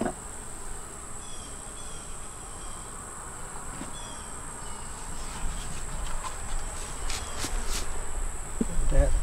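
A small honeybee swarm clustered at a long fence gives off a faint, steady buzz with occasional louder passes of individual insects, and the hum grows slightly stronger toward the end.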